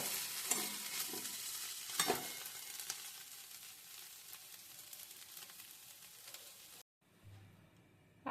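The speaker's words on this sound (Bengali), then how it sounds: "আলুটা লাল করে ভাজা হয়ে গেছে" Potatoes sizzle in hot oil in a kadai while being stirred, a steady crackling fry with a few scraping stirs early on, then a brief drop to near silence before the sizzle resumes more faintly.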